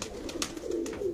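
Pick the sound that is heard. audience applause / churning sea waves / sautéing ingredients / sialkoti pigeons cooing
sialkoti pigeons cooing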